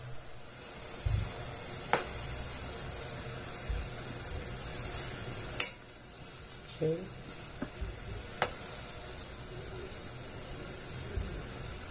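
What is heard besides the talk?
herbal remedy with palm sugar boiling in pot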